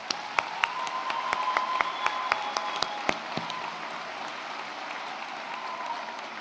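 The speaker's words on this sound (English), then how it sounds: "he never said you could applaud all of the people who are behind me" Applause ripples through a crowd at a 2014 law school commencement: a few sharp, distinct nearby claps stand out over a broad bed of clapping, then settle into steadier, softer applause toward the end.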